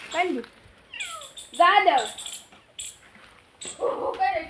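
A small kitten gives a few thin, high meows, mixed in with nearby talking.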